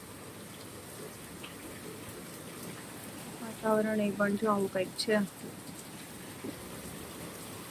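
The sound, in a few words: light rain falling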